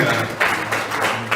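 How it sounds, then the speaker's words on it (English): Audience clapping at a report launch, heard as a brief burst of hand claps in pulsing waves with a low hum underneath. "Let's clap hands"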